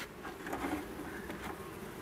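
Honey bees hum at an open apiary hive during an August inspection, a close, steady buzz with a few louder passes as individual bees fly near.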